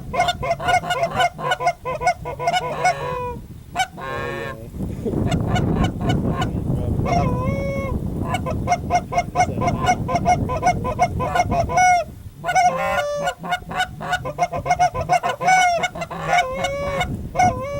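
A large flock of geese flying in close, honking loudly and continuously in overlapping calls, with short pauses and a brief burst of wing or wind noise, during a bird hunt outdoors; no talking.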